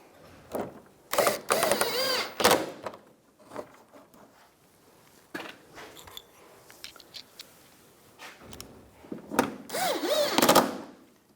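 Screws being driven in to fasten the inner fender liner on a 2004-2009 Toyota Prius, heard as loud, close, intermittent whirring bursts separated by quieter pauses and light handling clatter.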